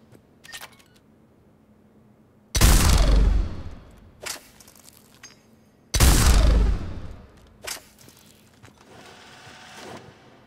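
Two loud, booming shots from the Executioner heavy pistol in Mass Effect 3, each with a long decaying tail, followed by quieter reload clicks and mechanical handling sounds.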